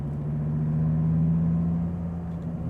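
A 2014 Dodge Viper's engine holds a deep, steady drone under throttle, heard close and loud from inside the car with no talk over it.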